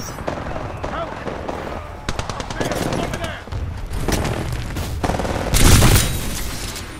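Rapid weapon fire in the video game Titanfall 2 during an Attrition match on Eden, bursts of gunshots running throughout with a loud blast near the end, game voices speaking over the combat.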